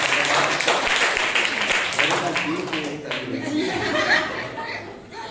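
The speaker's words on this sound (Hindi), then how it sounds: "लेडीज का सॉन्ग प्रैक्टिस अरुणा जी को एक ताली बजाइए।" A church congregation claps at a Sunday morning service to thank a woman for leading song practice, the applause mixed with chuckles and chatter and thinning out toward the end.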